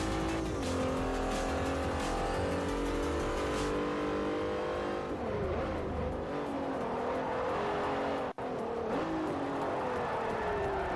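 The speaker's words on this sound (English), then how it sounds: "That was a pretty good skid." A race car in Forza Motorsport 4 holds a steady engine drone during a five-lap race, with shifting revs and tire noise as it skids, loud and continuous throughout.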